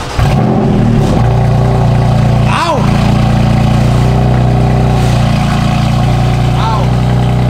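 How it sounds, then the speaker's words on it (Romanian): BMW M4 car engine with a new exhaust started and revved for the first time, a loud, close, steady idle with a few sharp rev blips, while people talk over it. "mașina este gata și acum o să pornim pentru prima dată"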